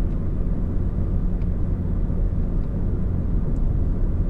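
A Volkswagen MK7 Golf GTI with a stock IS20 turbo and a Cobb DSG tune, in sport mode, drones at a steady held engine speed, a continuous low rumble from inside the cabin with no gear change.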